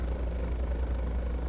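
Helicopter in the X-Plane 11 flight simulator, a steady loud low rotor throb with a rhythmic chop, heard up close in the cockpit without talk.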